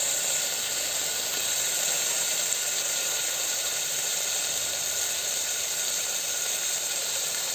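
Tomatoes frying in a pan for green gram sprouts kichadi, a steady, close sizzling hiss that continues evenly throughout with no talk.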